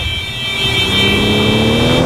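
A car engine in the video game GTA 4 revs steadily upward, its pitch climbing over about two seconds, loud and close with no talking.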